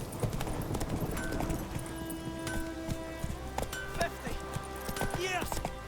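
Roach, a horse in The Witcher 3: Wild Hunt, gallops in quick, close, rhythmic hoofbeats that run steadily over game music and ambience.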